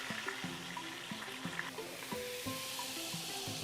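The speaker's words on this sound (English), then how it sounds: "You can hear that sizzle going in." A Wagyu corned beef sears in a hot pan, a close, steady sizzle and crackle with faint background hum and no voices for a few seconds.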